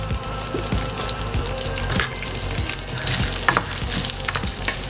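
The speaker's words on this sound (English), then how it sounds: "It doesn't take long to be sauteed, and the color should be like a little brownish." Cashews, pistachios and shaved and diced almonds sauté in oil over medium-high heat for Lebanese hashweh rice, giving a steady dense sizzle with scraping stirs and a few sharp clicks of nuts moving in the pan.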